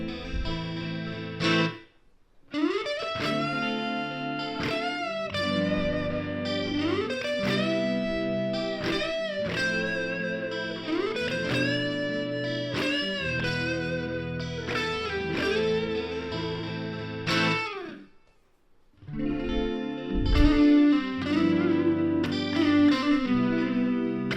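Electric guitar soloing with distortion and delay on a Line 6 Firehawk FX over a looped backing, bending sustained notes and quick runs at a steady, moderately loud level, with two brief pauses and no talking.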